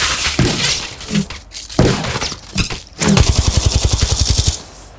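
Gunfire in the mobile shooter Apex Legends Mobile: loud single shots and thuds with short gaps, then a fast, even burst of automatic fire lasting over a second, close and punchy.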